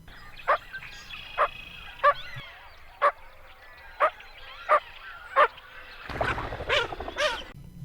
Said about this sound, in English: It does sound like a duck because it is a duck.